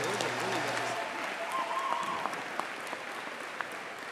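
High school graduation ceremony crowd applauding the wind ensemble and choir, sustained clapping from a large audience with faint voices and scattered sharper claps standing out as it goes on.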